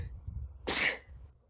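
A single sharp sneeze bursts out, short and fairly quiet, over a faint low background murmur.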